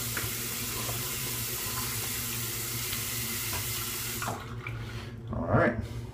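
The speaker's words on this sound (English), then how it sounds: "let me wet my face." A sink faucet runs in a steady close stream for a face wetting before a shave, then cuts off and leaves a few soft splashes and drips.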